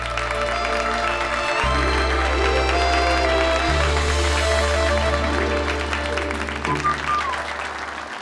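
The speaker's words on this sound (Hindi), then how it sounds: "तालियां" Steady applause from an audience carries on throughout, layered over sustained background music with deep bass notes and bright tones, loud and continuous before easing slightly at the end.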